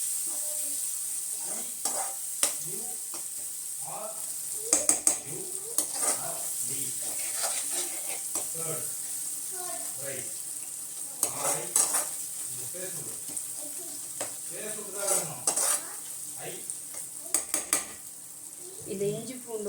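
Ginger and garlic sauté in a pan for pepper chicken, with a soft background sizzle broken by repeated metal spoon scrapes and clinks against the pan.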